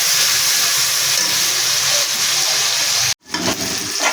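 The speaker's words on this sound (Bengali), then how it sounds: "টমেটোগুলো ভাজা ভাজা হয়ে গেছে" Tomatoes sizzle and fry in hot oil in a pan while cooking a tilapia fish curry, giving a steady loud hiss that cuts out abruptly near the end, then resumes with softer crackling.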